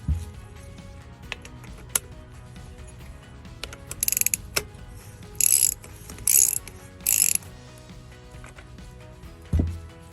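Ratchet tool clicking in short quick bursts while tightening valve parts on a Quincy 325 air compressor pump during a rebuild, close and fairly loud, separated by quieter handling noises.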